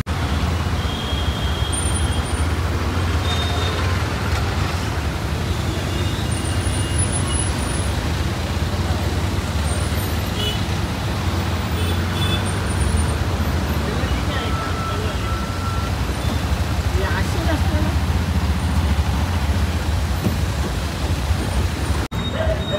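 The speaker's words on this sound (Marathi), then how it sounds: "ट्रॅफिक बघा नुसतं इथून इथून गारे" Steady road traffic in a long jam of cars and buses hums and rumbles continuously at close range, with a dense, unbroken roar and some voices mixed in.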